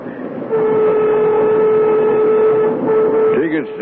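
A train rumbles steadily throughout a radio drama scene, with a long sustained whistle tone over the running noise, loud and close.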